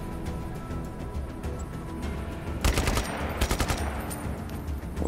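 Gunfire from an automatic weapon in Just Cause, starting as low background noise and then bursting into a rapid, loud volley of shots midway, with further scattered shots trailing after it.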